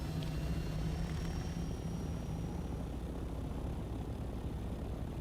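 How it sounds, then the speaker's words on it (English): Loud helicopter rotor and engine drone from the Dune: Awakening video game, a steady dense roar that holds at even strength throughout with no talk over it. "And the helicopters are loud as hell."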